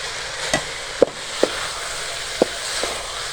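Homemade spaghetti fries in a pan with a soft, steady sizzle, punctuated by a few sharp clicks and taps of a utensil stirring against the pan.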